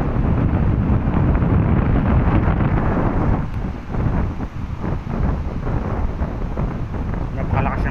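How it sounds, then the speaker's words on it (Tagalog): Strong wind roars and buffets the microphone at a seaside beach resort facing a pier in Ibajay, a loud continuous rumble that dips and surges with no clear talk above it. "Napakalakas ng hangin ngayon."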